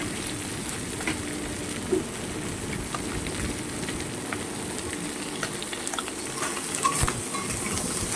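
Fish head and bottle gourd curry stirred in a pan, a steady close sizzle and frying crackle running throughout with occasional soft scrapes and clinks of the spoon, no voices.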